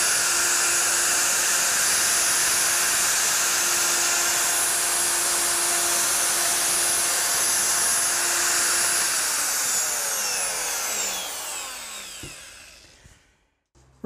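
A router trims an MDF edge with a loud, steady high-pitched whine for about ten seconds, then the motor spins down and the sound fades out.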